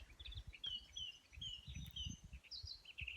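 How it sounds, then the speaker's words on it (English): A reed warbler sings by a river, giving faint, quick repeated chirps and trills over a low, soft rumble of the riverside setting. "I think that one's the reed warbler."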